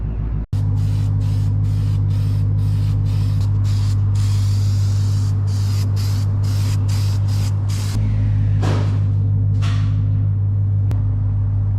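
A spray gun lays guide coat over the primed body of a Lincoln Continental, a loud steady hiss with a low compressor-like hum beneath, briefly interrupted near the start and near the end.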